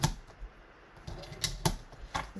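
Scissors snip through a pink cotton pillowcase in a few sharp, separate cuts spaced over a couple of seconds, close and fairly quiet with a faint background hum.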